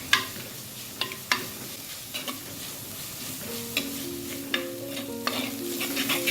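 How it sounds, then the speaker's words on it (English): Onion, curry leaves, garlic and other ingredients sizzle and fry in a claypot, with steady hissing broken by sharp scraping stirs and clinks of a utensil against the pot. "You then follow up with 4 stalks of curry leaves and saute all the ingredients"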